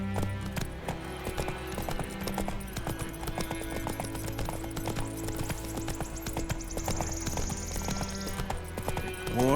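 A horse gallops in The Witcher 3 video game, with a steady, rapid clip-clop of hooves across the whole stretch, loud and close, with a brief snort or whinny and game ambience underneath.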